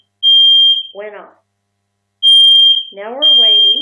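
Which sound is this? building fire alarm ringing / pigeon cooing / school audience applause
building fire alarm ringing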